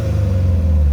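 Subaru WRX engine running steadily at a low, constant idle-like hum, close and loud throughout with no clear rise in pitch, no voices.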